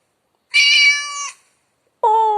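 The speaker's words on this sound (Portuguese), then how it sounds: "Oh, é um gatinho. Miau." A cat meows twice, close and clear: one long, drawn-out meow, then after a short silence a second meow begins. There is no other sound.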